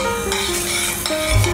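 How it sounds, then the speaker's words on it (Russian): Butter melts in a pan over the heat, giving a steady, soft sizzle with faint stirring sounds throughout, close and alone without any talk. "На огне растапливаем масло, чтобы сильно не кипело."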